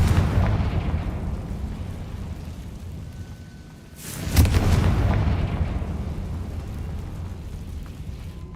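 A Confringo blasting spell goes off in the video game Hogwarts Legacy, a single loud booming explosion midway that swells and rumbles out over a low continuous game ambience, with no speech.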